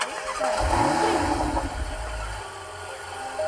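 A car engine cranks and catches, then settles into a steady low rumble, loud and close, with no talk over it.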